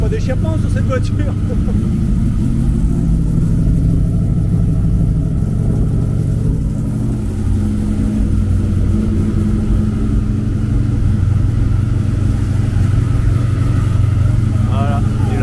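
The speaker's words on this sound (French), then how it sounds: "Il n'y a pas d'échappement sur cette voiture." Loud, raw engine rumble from a car with no exhaust fitted, idling and revving unevenly at close range for the whole stretch, with people talking over it.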